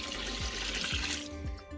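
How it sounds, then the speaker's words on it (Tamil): Water is poured onto measured rice, two measures for every one of rice, in a pot for quail biryani. It makes a continuous close gushing, splashing pour that runs steadily through the whole moment with no speech over it. "இதே மாதிரி 2 அளவுக்கு நம்ம தண்ணி ஊற்றுறோம்."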